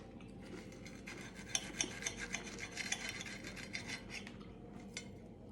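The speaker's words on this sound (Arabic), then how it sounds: "بيقرمش" Crunchy fried breaded escalope being chewed close up, producing a series of crisp, raspy crunches with small irregular peaks, fairly quiet and without talk.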